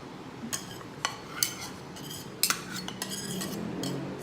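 Metal spoon stirring fruit salad in a bowl, with a series of light clinks and scrapes at irregular intervals, close and fairly quiet.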